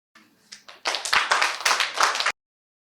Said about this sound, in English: Why are they clapping?